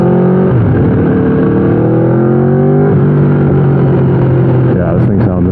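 A 2015 Aprilia RSV4 with an Austin Racing exhaust roars loud and close, its engine note steady then dipping as it shifts, with a speaking voice over the engine.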